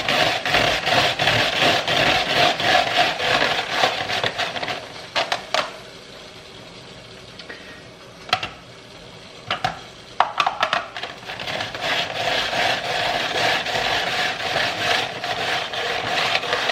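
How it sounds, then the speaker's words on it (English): An onion is rubbed on the largest side of a cheese grater in rapid, rasping back-and-forth strokes, loud and close, with a brief pause of scattered taps midway before the steady grating resumes. "This is on the largest cheese grater setting."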